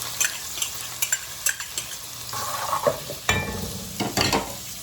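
Garlic cloves frying in rendered pork fat for Puerto Rican arroz con tocino, a close crackling sizzle broken by repeated sharp spoon knocks and stirring scrapes against the pot.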